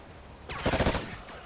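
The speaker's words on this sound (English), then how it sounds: "This gun shoots fast." Rapid automatic gunfire in the video game Call of Duty: Ghosts, a short burst of fast shots fired in under half a second, loud and close over a background hum.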